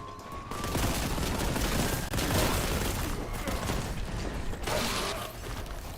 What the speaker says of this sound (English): it's like a machine gun, bro